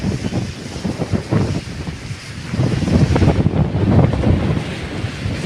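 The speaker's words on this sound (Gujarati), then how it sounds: "જોવો આ બંધારા ઉપરથી પાણી જાય છે।" Water pours over a check dam at a full lake, a steady broadband rush with gusty wind buffeting the microphone, swelling louder in the second half.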